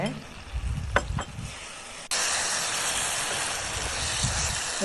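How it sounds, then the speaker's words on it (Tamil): Spices with turmeric and chili powder sautéing for mutton curry, a steady close sizzle with a few spoon clinks and stirring scrapes early, then a louder, even frying hiss. "எல்லாத்தையும் போட்டு நல்லா வதக்கியாச்சு"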